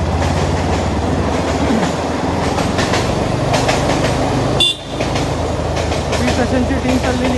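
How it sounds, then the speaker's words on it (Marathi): A train passes close by near a temple, with a loud, steady rumble and rhythmic clatter of wheels on rails that continues throughout and dips only briefly once. "हे पाहून इथून ट्रेन जात आहे"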